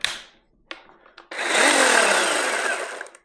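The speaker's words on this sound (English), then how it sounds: "And we have a chainsaw." A Ridgid 18V battery-powered chainsaw with an 8 amp-hour lithium battery, preceded by a few clicks and short bursts, then revving up to a steady, loud, high-pitched whine that holds and tapers slightly at the end.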